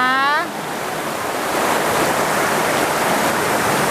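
Khlong Maduea waterfall in Nakhon Nayok: a constant broadband rush of falling water, close and steady, after a woman's brief speech at the very start.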